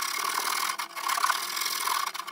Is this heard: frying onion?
no